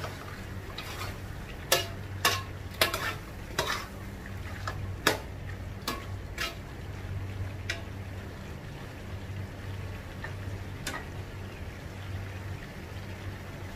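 A spoon stirs Ilocano-style igado, pork liver, with vinegar in a pan, making a string of sharp, irregular clicks and scrapes against the metal over a steady low hum.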